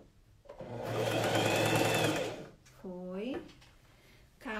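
A sewing machine runs a coat seam in a loud burst of about two seconds, then falls quiet while someone talks.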